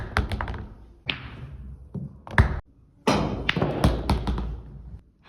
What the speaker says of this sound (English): I had to shoot in all the balls from 1 to 15 in consecutive order